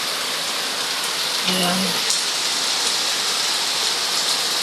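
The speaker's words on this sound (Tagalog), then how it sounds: "Another ulan ulit." Steady heavy rain falls during a typhoon in the Philippines, a constant hiss that never lets up, with a brief tonal sound and a short spoken word partway through.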